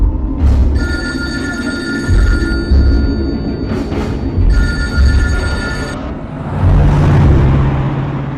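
A telephone rings in repeated electronic bursts, loud and close, over a steady low rumble of traffic or engine noise.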